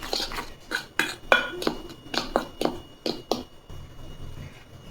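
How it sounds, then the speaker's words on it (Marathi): Wheat flour, maida and baking soda mixed in a bowl for a banana cake, a quick run of about a dozen clinking spoon-against-bowl strokes, close and rhythmic, then stopping. "यामध्ये आता अर्धा चमचा खायचा सोडा टाकून घेऊ आणि हे व्यवस्थित मिक्स करू मैदा गव्हाचं पीठ।"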